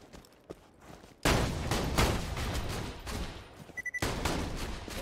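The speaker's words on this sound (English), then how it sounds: "Who else is shooting?" Gunfire in the video game Borderlands 2: a sudden loud burst of rapid shots breaks a quiet start and rattles on for seconds, then cuts out briefly with a few scattered pops before another barrage resumes.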